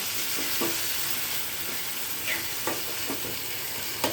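Tomatoes and onion sautéing in a pan give an even hissing sizzle, broken by occasional scrapes and taps of a stirring spoon, with no one speaking.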